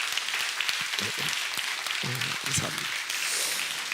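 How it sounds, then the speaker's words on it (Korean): A church congregation applauds a guest drummer after his testimony and performance: steady, moderately loud clapping fills the room while someone speaks briefly over it. "우리 다시 한번 귀한 간증과 공연의 지 우리 리노님께 박수 한번 주십시다."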